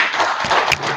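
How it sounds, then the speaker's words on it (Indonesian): A class applauds, a short burst of hand clapping, fairly loud and close, lasting about a second. "Oke, tepuk tangan."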